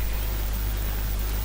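Steady rain hisses evenly while cycling at high elevation on a road trip from Ishigaki to Naha, a constant wash of drops with a low rumble underneath and no voices.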